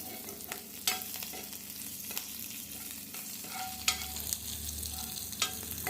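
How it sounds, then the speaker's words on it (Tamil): Shallots and green chillies fry in a pan for a Chettinad shredded chicken dish, a steady close sizzle broken by occasional scraping stirs, with no talking. "சின்ன வெங்காயத்தை அதில் போட்டு வறுக்கணும்"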